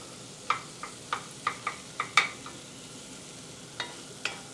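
Hatch chili with its charred skins removed being stirred into homemade BBQ sauce: a series of soft, wet clicks and scrapes from a spoon against the pot, spaced irregularly, close and fairly quiet with no talking.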